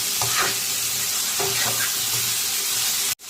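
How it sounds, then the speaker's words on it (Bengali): Ground ginger, garlic and onion paste with cumin powder frying in a pan while being stirred, a continuous sizzle with intermittent scraping and stirring clatter, close and fairly loud, cutting off abruptly at the end. "আদা, রসুন দিয়ে দিচ্ছি। আমি কষিয়ে নেব।"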